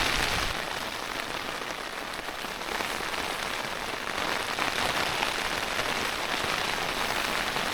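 Steady rain patters hard on a surface, a dense continuous hiss of drops close by with no voices.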